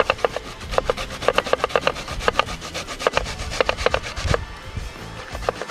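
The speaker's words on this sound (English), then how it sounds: "Grate our breadfruit dumpling today." Breadfruit being grated for dumplings gives quick, rhythmic rasping strokes, close and loud, a steady run of scrapes with a brief pause near the end.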